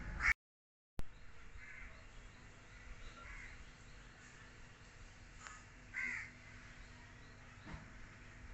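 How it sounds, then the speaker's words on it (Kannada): Crows caw a few times, faint and distant, in an outdoor natural setting in Goa, over a quiet background with no talking. "ಕಾಗೆ ಅಂತೂ ಕಾವು ಕಾವು ಅನ್ನತ್ತವ"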